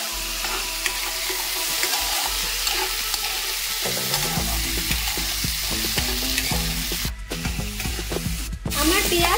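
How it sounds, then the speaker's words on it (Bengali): Onion, tomato and chopped capsicum frying and being stirred in a pan, with a continuous close sizzle and repeated scraping and clinking of the spoon against the pan throughout. "দিয়ে আমি সবকটাকে একসাথে ভালো করে একটু ভেজে দিচ্ছি"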